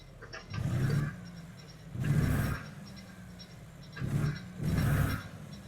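Western Star 49X truck engine in American Truck Simulator, heard from inside the cab with the windows down: two pairs of loud, low revving surges rise and fade with short idling gaps between them, with no talk over it.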